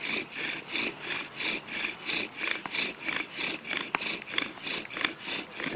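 A wooden friction fire drill turns back and forth in a wooden socket, making a steady, rhythmic rasping rub of even strokes, close and moderately loud, with no talking.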